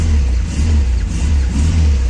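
A Škoda 120 engine with a failed gearbox revs loudly and close, a steady low mechanical drone that swells and dips slightly, with no talk over it.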